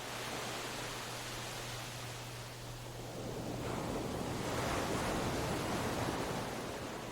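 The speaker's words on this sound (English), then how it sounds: "Just the breath of wind through the cliffs and the soft slap of waves against the hull." Soft waves slapping against the hull of a boat in a cliff-lined bay at El Nido, Philippines, heard as a continuous gentle wash with faint wind and a low hum fading out, no voices.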